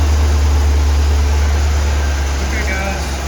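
A Porsche 928 V8 engine running at a steady idle, a loud, continuous low rumble with a broad hiss of noise and no speech over it.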